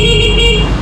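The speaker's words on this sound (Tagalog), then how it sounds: "Busina muna tayo." Horn of a Honda Click 125 V5 scooter, one short, loud, steady electric beep sounded close up, with a bright tone over a low idle rumble.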